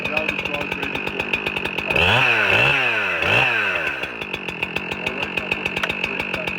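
A Pro Model chainsaw idles close up with a rapid, buzzing chatter, then revs hard twice in a rising, screaming whine before dropping back to idle.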